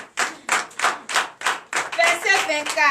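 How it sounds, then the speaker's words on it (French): A church congregation in Comè, Benin, claps in acclamation during a Sunday service, starting with about seven slow, evenly spaced group claps before voices join and blend with the clapping. "Donnez l'acclamation à Seigneur Jésus"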